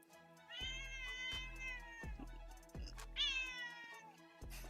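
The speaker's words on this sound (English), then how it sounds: "I don't know if you guys can hear my cat yelling at me." A house cat meows and yowls insistently, several drawn-out loud calls close to the microphone with short gaps between them, with soft thumps underneath.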